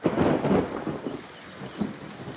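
A thunderstorm with heavy rain: a deep rumble of thunder rolls over a steady hiss of rainfall, fading and then swelling again briefly near the end.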